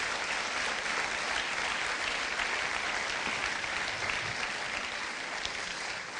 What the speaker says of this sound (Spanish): Den una ofrenda de palmas fuerte